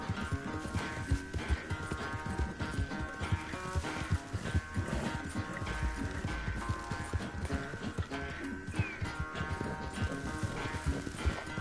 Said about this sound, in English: por que o cavalo não pula?